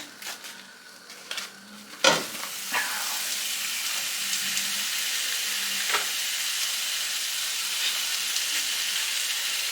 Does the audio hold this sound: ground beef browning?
yes